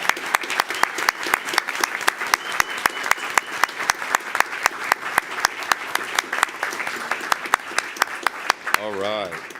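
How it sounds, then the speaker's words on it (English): Applause at a school district board meeting greets art teachers walking to the front: a crisp run of sharp, closely spaced claps over a wider crowd's clapping, steady throughout, with a voice starting to speak right at the end. "How about we give them a round of applause as they come to the front?"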